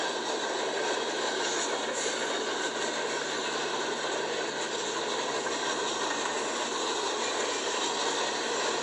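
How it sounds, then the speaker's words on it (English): A steady metallic clatter and rumble from a passing CSX freight train led by locomotive 3324, sounding a K5HL horn, continues without pause, loud and close, with no voices, in Bay, North Carolina. "Looks like a train"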